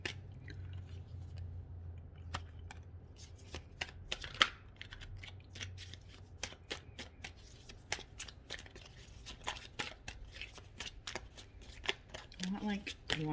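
Tarot cards shuffled and drawn by hand, a run of soft crisp riffles and slaps with irregular rhythm, quiet and close, as a voice speaks in the background.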